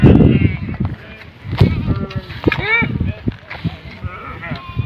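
Sheep and goats grazing on a hillside bleat repeatedly and quite loudly nearby, the wavering cries overlapping with talk throughout.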